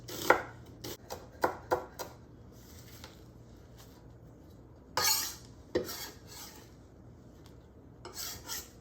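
A knife slicing a sweet onion on a cutting board, a series of sharp close chops in uneven bursts with quiet pauses between.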